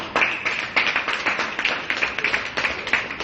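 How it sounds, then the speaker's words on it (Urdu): An indoor training-session audience applauds in steady, fairly close clapping that carries on for several seconds with no talk over it. "عرفان بھائی کے ارمانوں کے لیے تالیاں ہو جائیں"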